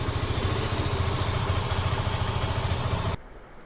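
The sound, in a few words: motorcycle engine idling after oil change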